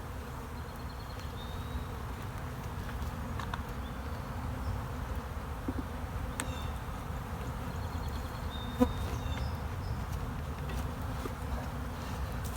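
Honey bees drone steadily in an open hive whose brood chambers are being checked. The low buzz is close and continuous, with faint clicks and small knocks now and then.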